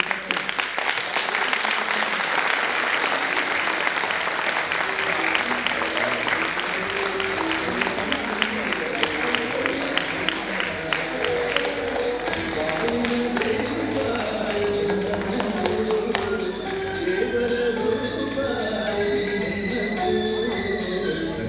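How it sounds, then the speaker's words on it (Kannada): Audience at a drama performance in a tent breaking into loud, sustained applause, many hands clapping densely and close for a long stretch, with voices and music mixed in beneath. "ಮತ್ತೊಮ್ಮೆ ಜೋರಾದ ಚಪ್ಪಾಳೆ"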